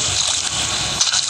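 In a shark-hunting video game, a broad watery splash and slosh plays for about a second, with a fainter burst of churning near the end.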